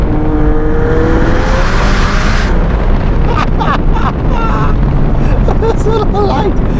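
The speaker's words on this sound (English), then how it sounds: "we got that 4-litre twin turbocharged V8 up in the back" A McLaren 720S Spider widebody with a 4-litre twin-turbocharged V8 roars loudly, its engine note sweeping up and then settling, with wind buffeting the microphone and a voice talking partway through.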